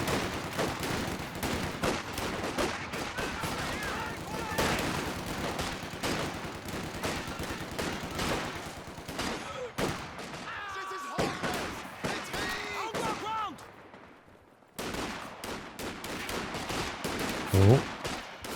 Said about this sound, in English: MG42 coming in from the side.